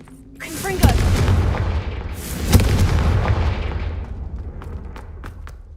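A Confringo fire spell blast from Hogwarts Legacy goes off twice in quick succession, each a loud booming burst with a crackling tail that fades, followed by a few fainter sharp pops, with no talk over it.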